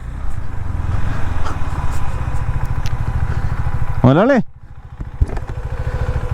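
A KTM Duke 390 motorcycle engine idles with a steady low throbbing pulse, loud and close, while someone speaks briefly over it and a short whining sound rises and falls midway.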